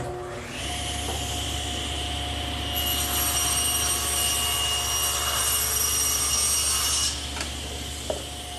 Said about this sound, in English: I've set up the saw 3/4 of an inch away from the fence and about 1/4 of an inch deep